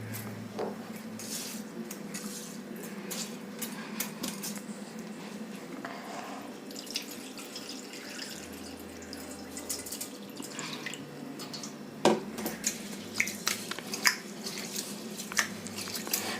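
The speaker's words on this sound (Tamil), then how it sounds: "ஒரு 4 வாட்டி நல்லா களைஞ்சி எடுத்துருங்க தண்ணியை." Soaked raw rice being washed in a bowl of water, steady watery swishing and squishing with occasional drips and clinks, close and continuous with no talking.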